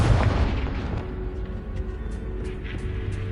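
A Confringo blasting spell explodes in the Hogwarts Legacy video game, a single loud boom at the start that decays into a rumbling tail with faint crackles.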